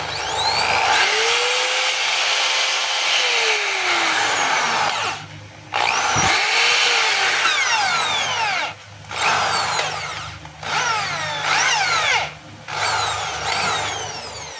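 A DeWalt DW024 half-inch hammer drill runs in hammer mode after a field housing repair, whining loudly and close with a steady rattling buzz, cutting out in several short breaks and restarting.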